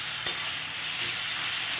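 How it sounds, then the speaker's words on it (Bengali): Broccoli and potatoes frying in a pan, a brief steady sizzle with one sharp clink or tap near the start, close and uninterrupted by voices. "সুন্দর করে ভাজা ভাজা হয়ে যাচ্ছে"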